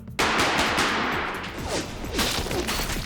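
A special-effects gun rig on a film set for a nightclub shootout bursts into a rapid volley of sharp cracks after a brief silence, loud and close, with rattling echoes and trailing fizzing sparks.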